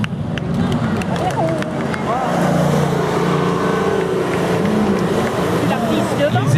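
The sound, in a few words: Morgan and other classic cars driving onto the track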